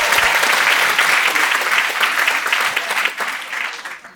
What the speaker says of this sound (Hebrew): מחיאות כפיים למחזור החלוצים של בית הספר!